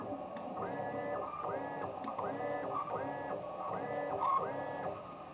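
A robotic actuator motor runs through repeated movements, giving a rhythmic series of whirring, rising electric tones about every second over a low mechanical background.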